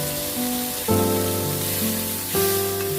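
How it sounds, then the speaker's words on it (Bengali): Mushrooms frying in about half a spoon of oil give a steady, close sizzle with soft crackle, alone and without talk, while a faint tonal hum swells twice in the background. "অল্প করে হাফ চামচের মতো দিয়ে মাশরুমগুলোকে ভেজে নেব।"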